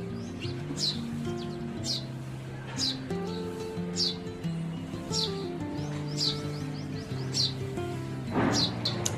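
A baby sparrow nesting in a corridor ventilator gives faint, thin chirps repeated every second or so for several seconds, set against a steady low tonal hum.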